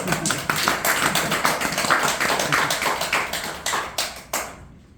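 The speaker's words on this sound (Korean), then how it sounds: "박수 좀 한번 치세요" Scattered applause from a small group, irregular claps close by that thin out and stop near the end.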